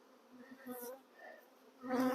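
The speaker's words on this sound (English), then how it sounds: "I'm just admiring a bee standing here with two massive loads of pollen on her legs." Honey bee buzzing close by at a hive with a screened inner cover, a soft droning hum that swells midway and grows louder at the end.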